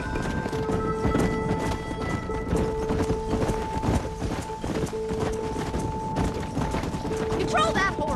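Steady clip-clop of horse hooves with galloping rhythm in Red Dead Redemption while herding cattle, layered over busy game music and other action noise, fairly loud throughout.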